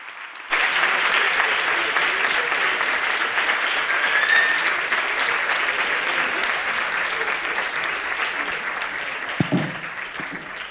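An audience gives long, steady applause after a lecture on decoding emotions through language, a dense, even roar of clapping that starts abruptly and holds for about ten seconds, with a brief low thump near the end.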